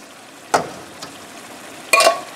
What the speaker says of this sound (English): So we get these beans mixed around, let them cook for about 5 minutes